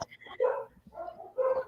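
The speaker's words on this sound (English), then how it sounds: "I don't know if you heard the barking" A dog barks a few times in the background, short yips and barks mixed with whimpers, partly overlapped by a person talking nearby.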